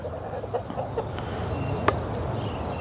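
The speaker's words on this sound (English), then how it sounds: "this chicken is really trying to get my toes" A chicken clucks near someone's feet, pecking at their toes, with a few short soft calls and one sharp brief squawk over outdoor background rumble.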